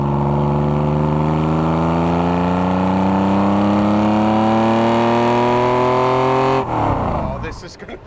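Porsche 914 engine droning steadily in the cabin while driving, with rising harmonic tones as it accelerates through a long gear, then a sudden drop at a shift or lift-off near the end.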